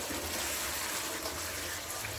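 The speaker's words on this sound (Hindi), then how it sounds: "साथ में ही थोड़ा सा मैं पानी डालूँ" Water poured into a cooking pot while making chicken biryani, a soft steady trickle and splash that runs throughout at low volume with no talking.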